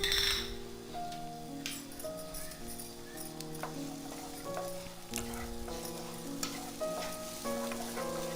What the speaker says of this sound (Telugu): బటర్ కరుగుతుంది కదా, ఇప్పుడు ఉల్లిపాయ ముక్కలు వేసి వేయించండి